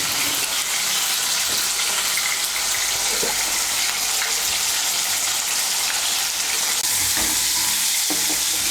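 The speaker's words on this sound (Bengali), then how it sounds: "মিশিয়ে নিয়ে আলুগুলোকে লাল করে ভেজে নেব।" New potatoes, three medium ones seasoned with a little salt and turmeric powder, fry in hot oil in a pan. A steady, loud sizzle continues throughout with occasional stirring scrapes and no voices.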